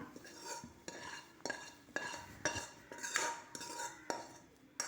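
Drumstick leaves are stirred into batter in a pan, with a spoon scraping and clinking against the metal in a quick, regular series of close, fairly quiet strokes.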